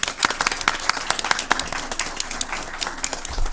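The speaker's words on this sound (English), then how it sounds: "let's give her a round of applause" A round of applause at a school board meeting, moderately loud clapping from a small group of people, with crisp individual claps standing out from a steady patter.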